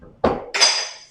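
A hammer strikes a wooden fence picket twice during the build of a picket fence section, the first blow a dull thud and the second a brighter, ringing knock that lingers.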